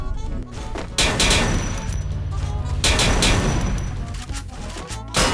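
Gunfire in the battle royale game Free Fire: dense automatic bursts and rapid shots in loud clusters, breaking off briefly and then resuming, with no talk.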